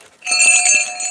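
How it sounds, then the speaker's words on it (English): Small rope-made Christmas decoration bell jingling close by, a bright rapid shimmer of several quick metallic strikes with ringing overtones that lasts about a second, with no voices. "So this is a bell that I got,"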